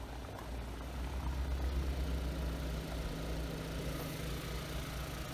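Volkswagen Multivan T6 with a 2.0-litre inline four-cylinder turbocharged direct-injection TDI BlueMotion diesel idling under an open bonnet, a steady low drone with a constant hum, moderately quiet and without speech.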